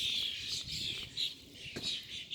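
Wild birds singing outdoors, a pair of them, with bright repeated chirps and tweets that come and go in short bursts, fairly faint and at a distance, with no voices over them.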